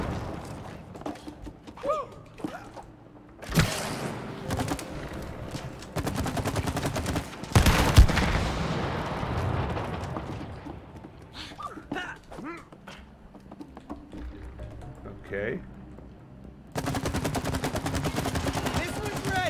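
Video game gunfire in It Takes Two as players shoot at Charizard, bursts of loud shots and rapid fusillades with mechanical clatter, dense in places and pausing between volleys over a busy game soundtrack.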